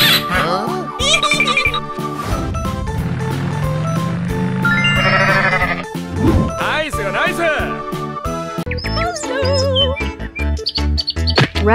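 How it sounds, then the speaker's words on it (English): A goat bleating several times over bouncy children's music with chirpy bird-like tones, the wavering cries rising above a steady beat. "Goat."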